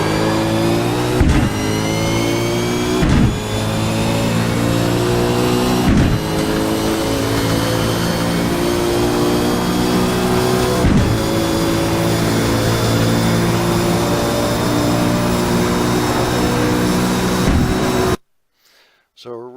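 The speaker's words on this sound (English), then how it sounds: "We also just topped out on the rev limiter here." A race car accelerates hard around the Road Atlanta circuit. The loud, close engine drone climbs steadily through the gears, with brief dips at each shift, then holds high revs near the limiter before cutting off abruptly.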